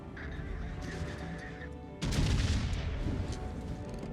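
Battleship guns firing high-explosive shells in the naval game World of Warships, a heavy broadband boom that cuts in halfway and rumbles on after steady background engine noise.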